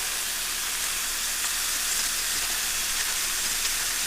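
Oxtail pieces searing in a hot pan give a steady, broadband sizzle with a soft hiss, constant and fairly close, with no one speaking over it.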